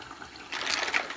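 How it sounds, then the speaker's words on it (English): Warm water running from a tap while makeup brushes are rinsed clean: a steady splashing trickle that grows louder and fuller halfway through, heard close with no talking. "And I'm just running warm water."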